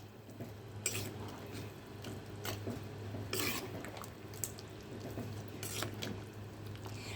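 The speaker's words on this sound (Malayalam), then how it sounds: "പാകത്തിനുള്ള വെള്ളവും കൂടെ ചേർത്തിട്ട് ഒന്ന് ഇളക്കി കൊടുക്കാം" Drumstick curry with ground coconut, cumin and water being stirred in a pot: faint scraping and clinking of a spoon against the pan in irregular strokes over a steady low hum, with occasional light knocks.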